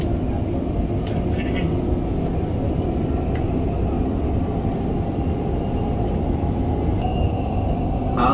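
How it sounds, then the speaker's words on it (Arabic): A Dubai Metro train running between stations, its steady low rumble and rolling hum filling the whole stretch at close range, with a few faint brighter squeaks and clicks over the continuous drone. "The final destination of this train is Abu Hair."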